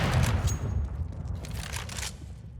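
Gunfire in the shooter game CS:GO, a rapid burst of shots at moderate level with crackling, rattling texture that tails off over a couple of seconds.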